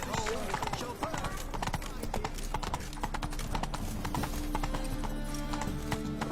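Horse hooves clip-clop in a steady trotting rhythm in the video game Witcher 3: Wild Hunt, loud and continuous throughout, with a voice speaking over the hoofbeats.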